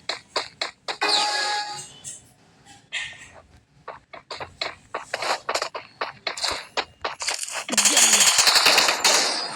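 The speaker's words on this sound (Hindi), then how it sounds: "अच्छा P90 और ये वाली थी कालू की फेवरेट गन" Rapid automatic P90 gunfire in a video game, loud bursts of closely spaced shots repeating across the whole stretch with brief pauses, denser and louder near the end.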